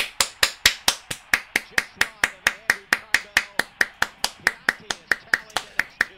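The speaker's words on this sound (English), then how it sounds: "I mean, I'm clapping because that's a good goal." One person claps alone, close and sharp, about four even slaps a second in a steady run, while watching a live MLS soccer match.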